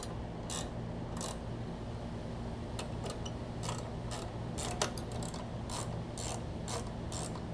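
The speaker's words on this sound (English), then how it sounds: "And tighten this one up." A ratchet tightens a bolt on an 8hp Briggs engine from a Giant Vac blower, giving a run of sharp, evenly spaced clicks over a steady low hum, close and alone.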